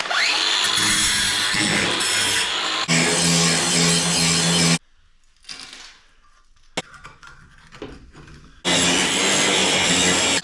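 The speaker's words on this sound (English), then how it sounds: "by lathe, I mean my angle grinder with a grinding stone on it" Angle grinder fitted with a grinding stone working on a part from a 1978 K5 Blazer, loud and harsh, running in two long bursts with a quieter pause of scraping and handling between them.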